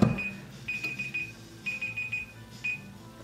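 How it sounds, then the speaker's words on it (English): A kitchen timer beeps in a home kitchen, repeating short high-pitched beeps in quick groups with brief gaps, fairly faint against quiet room noise. "My timer."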